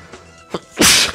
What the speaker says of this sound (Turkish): Bir anda hapşırdım